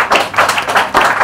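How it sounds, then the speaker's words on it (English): Audience applause at a magazine launch event in India for a singer, heard as a short burst of dense, fairly loud clapping from a crowd, with no talking over it. "Can we have a big round of applause?"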